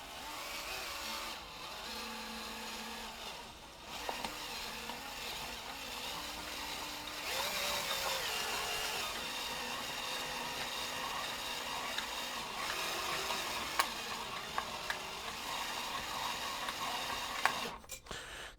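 A power drill whirs steadily and grinds as it bores into a scrap piece of wood, with varying motor pitch and brief louder catches near the end as the bit bites.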